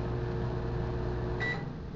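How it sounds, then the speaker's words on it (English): A microwave oven hums steadily close by, then emits a short electronic beep near the end. "That's kind of an annoying beep."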